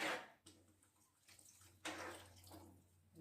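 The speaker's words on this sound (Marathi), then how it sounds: "थोडंसं पाणी टाकूया" Water pours into a pan of val usal, a faint splashing rush in two separate pours, each trailing off into soft bubbling, heard quietly with no talk.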